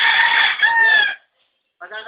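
A rooster crows loudly up close in one long call, then falls silent before another shorter clucking burst begins.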